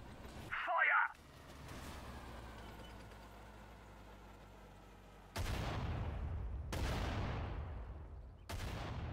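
Gunfire and cannon blasts from the World War II strategy game Sudden Strike 4: a short burst early on, then three heavy booming shots near the end, each ringing out over a steady low battlefield rumble.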